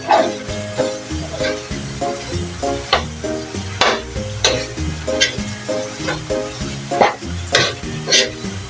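Pasta sauce cooking in a pan with softened pasta, a soft sizzle beneath rhythmic clattering stirring hits and music playing alongside.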